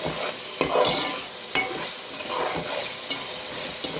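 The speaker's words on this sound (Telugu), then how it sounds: "మసాలా ఫ్రై చక్కగా అవ్వాలి." Masala for a mutton gravy curry sizzles steadily in a pan while a spoon stirs and scrapes through it, with a few sharper clinks against the pan, close and continuous.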